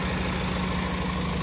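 A vehicle engine idles steadily after stalling in floodwater at Rufford Ford, a constant low rumble with a faint regular throb, close and unbroken.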